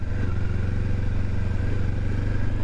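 A 2023 Kawasaki Ninja 400 KRT engine drones steadily while riding, a loud, close, even parallel-twin hum with a constant rhythmic pulse and no change in pitch.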